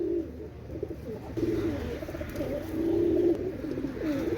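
Several pigeons, pairs of flying pigeons kept for sale, coo steadily in low, rolling, throaty phrases that swell and fade throughout, moderately close, with no talking.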